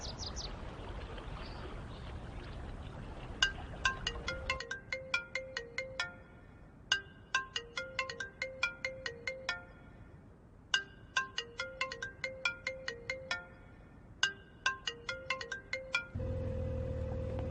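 A phone ringtone plays in repeated bursts of bright electronic chiming notes with short gaps between, fairly close, after a brief stretch of background noise.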